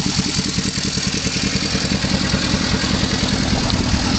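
A Baja buggy converted to a 750cc Suzuki engine idles cold through a drilled-out stock exhaust, a close, loud and steady rapid putter with even pulses throughout.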